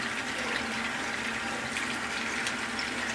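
Steady running water rinses makeup brushes, a constant close splashing hiss that holds at an even level throughout with no voices.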